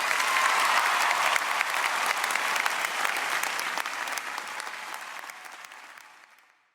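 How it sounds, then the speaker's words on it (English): A large crowd applauding and cheering, dense sustained clapping heard alone that holds steady, then gradually tapers off and fades to silence. "And the crowd just goes wild."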